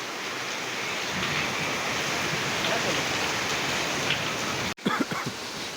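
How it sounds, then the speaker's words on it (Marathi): Heavy rain pours down in a steady, dense roar, then cuts off abruptly near the end, where a brief voice is heard. "लय जोरात पाऊस चालू झाला रे"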